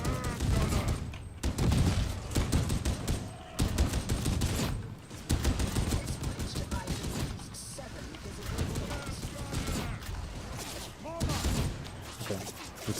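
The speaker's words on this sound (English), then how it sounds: "Okay, need to stop shooting." Rapid, dense gunfire in the video game Warhammer 40K Darktide, sustained bursts of shots with mechanical clatter, loud and continuous under someone talking.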